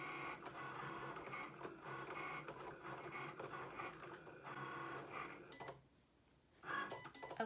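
A Cricut cutting machine works through vinyl with a steady, mechanical, printer-like whirr and clicking carriage moves, then goes briefly quiet before a short final burst of motor noise.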